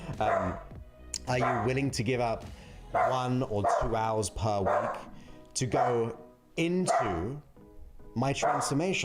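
A dog barks in the background of a room while someone speaks continuously over it. The barks are intermittent and sit beneath the louder voice.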